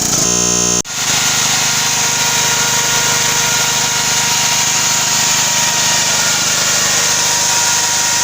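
A steady, loud engine drone from an AMC Power BT 3800 portable generator runs continuously after a brief rattling start, holding an even mechanical hum throughout.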